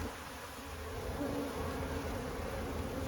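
Honeybees buzz steadily and loudly throughout an open hive during an inspection, a dense continuous drone with no talk.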